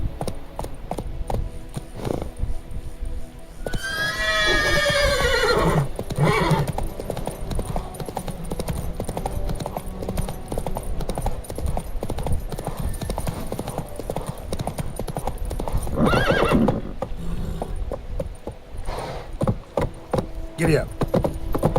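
In The Witcher 3 video game, a horse whinnies once near the start, then its hooves clip-clop at a steady trot through the rest, close and fairly loud, with a second burst of horse noise later on.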